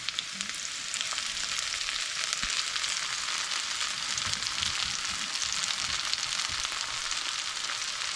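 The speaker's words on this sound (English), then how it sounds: "Next, we're gonna add our scallions in there." Chopped scallions fry in a hot pan, giving a loud, steady sizzle and crackle with faint stirring noises and no talking.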